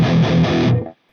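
Electric guitar sounding a single distorted lead phrase with a slightly mushy tone, loud and alone, then cut off and fading quickly.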